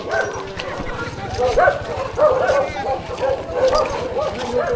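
A dog yips and whimpers repeatedly in short, high, strained cries amid a busy outdoor scene where people keep talking over it.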